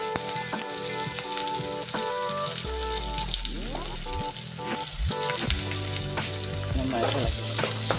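Garlic and shallots fry steadily in hot oil, a continuous close sizzle with intermittent scraping and clinks as a utensil stirs through the pan, with no voices over it.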